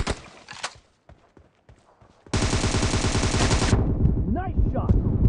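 Gunfire in PUBG played on an iPad: a few scattered shots and quiet movement, then a sudden long automatic burst, loud and close, with a short voice heard near the end.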